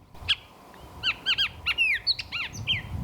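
Juvenile bird in desert chaparral gives a rapid series of bright, chirping calls, several clusters of short notes spread across a few seconds, fairly close and clear over quiet background with no talk.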